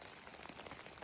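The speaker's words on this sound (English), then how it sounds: "you can hear it's raining" Hard rain falls on a camping tarp in a forest on a morning overnight camp, a steady dense patter of drops with no voices.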